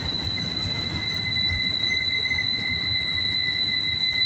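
A southbound CSX autorack freight train rolls past with a constant heavy rumble and two steady high wheel-squeal tones, loud and unbroken, with no voices.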